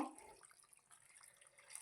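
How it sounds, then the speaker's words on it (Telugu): Water is poured into a pot of drumstick and mango curry with sand fish, a faint, soft splashing trickle lasting under two seconds with no talk over it. "ఇందులో వాటర్ అయితే యాడ్ చేస్తున్నాను"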